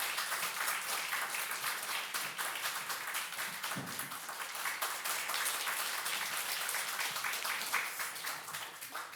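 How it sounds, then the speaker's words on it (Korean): A church congregation applauds during a Sunday baptism service as a woman comes forward to give her testimony, steady sustained clapping from many hands filling the room for about nine seconds, with a brief low thump partway through. "자매님 앞으로 나오실 때 우리 박수 한번 부탁드립니다."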